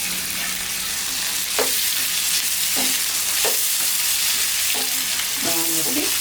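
Prawns sizzle with mushrooms in a hot pan, and a spatula clinks against the metal several times in an irregular rhythm over constant loud frying. Nobody speaks.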